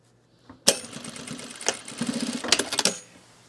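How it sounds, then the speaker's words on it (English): A sewing machine runs in short bursts while back-stitching a seam on a men's utility jacket, its motor whirring and needle rattling up close, stopping and restarting a few times. "let's do the back stitch down here"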